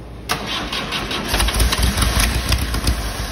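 A diesel engine cranks and fires after its glow plugs are preheated, catching quickly and settling into a loud, steady rumbling idle, close up.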